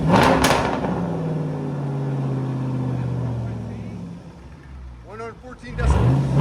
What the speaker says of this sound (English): Go rev it, bro.